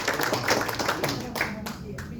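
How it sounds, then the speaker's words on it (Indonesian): A small audience at a product and business presentation in Bandung claps in a close, uneven burst of individual hand claps, with voices mixed in underneath. "Tepuk tangan untuk Bima yang luar biasa."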